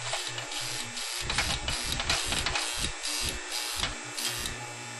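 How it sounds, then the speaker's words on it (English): The vibrotor on a toy train sawmill accessory gives off a harsh mechanical grating buzz in uneven rhythmic bursts, loud and close, with a hissy edge. "The grating noise of the vibrotor, which sounds like a real sawmill,"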